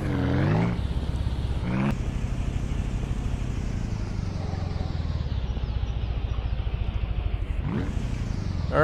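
A vehicle in Ranch Simulator drives along with a steady, loud engine drone and a pulsing low rumble, its pitch shifting briefly as it speeds up and settles, no speech heard.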